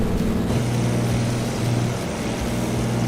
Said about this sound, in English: Okay, now I can hear the engine.